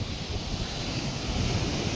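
Sea waves at a beach, a steady broadband wash of surf with wind noise buffeting the microphone, continuous and fairly loud with no voices.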